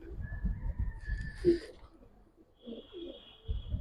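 Low, throaty coos come from Giribaz pigeons, a couple of short nearby calls separated by pauses, fairly quiet and alone with faint background shuffling.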